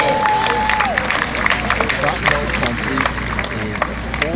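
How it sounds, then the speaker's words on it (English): Spectators at a Barbados Independence Day parade clap and cheer in a scattered crowd, sharp claps rising over a busy outdoor murmur of voices and a brief tonal whistle near the start. "Let's give them another rousing round of applause."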